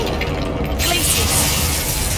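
An ice spell, Glacius, cast in the video game Hogwarts Legacy, giving a dense, loud crackling, shattering burst that holds steady for a couple of seconds amid game combat noise.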